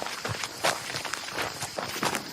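Footsteps of someone approaching in a Hindi audio drama, a series of soft, fairly close steps in a steady walking rhythm with no talk over them.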